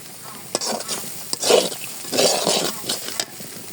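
Lentils frying with garlic paste in a pan, a crackling sizzle broken by scraping stirs and clinks of a spoon, rising and falling in a few bursts close by, no talking.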